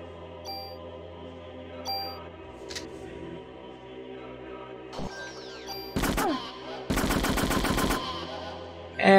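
Gunfire from a weapon in the PS1 game Parasite Eve, isolated shots early on, then two loud, dense bursts of rapid fire near the end over a humming game background.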